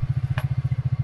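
A scooter grinds along a muddy forest trail near Aatighar, Pokhara, its engine giving a steady rapid pulsing drone up close, with one brief clatter partway through.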